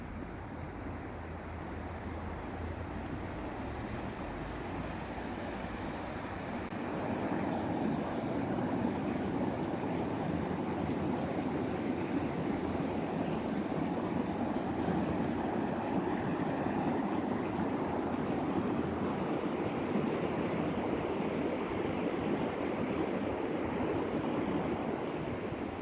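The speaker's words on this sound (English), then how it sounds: "we are approaching that creek, and I'll be quiet for a minute so you can just hear it" Creek water flowing steadily in Alston Park, Napa, a continuous broad rushing wash that swells louder after the first few seconds and then holds, close and unbroken, with no voices.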